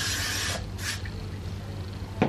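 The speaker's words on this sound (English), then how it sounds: "We're then going to go in and spray it with a bit of the glue." Two short hissing bursts of hairspray from an aerosol can that is running low, misted onto curled hair at close range, the first longer and the second briefer, followed by a quiet room.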